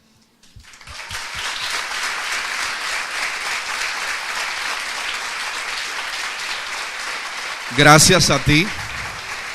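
An audience at a church book launch in Venezuela breaks into loud, sustained applause after a few scattered claps, then keeps clapping as a voice speaks over it.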